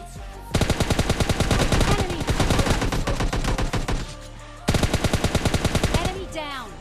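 Automatic gunfire in PUBG, with two long, loud bursts of rapid, evenly spaced shots close by, split by a brief pause.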